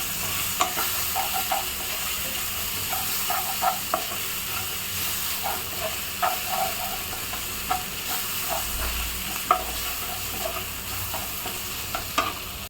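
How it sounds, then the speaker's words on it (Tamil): Onions and tomatoes sizzle steadily in a frying pan for an egg thokku, with repeated light scraping and stirring clicks over the continuous frying hiss; no talking. "இந்த பாருங்கள், வெங்காயம் தக்காளி ஓரளவுக்கு வதங்கிருச்சு."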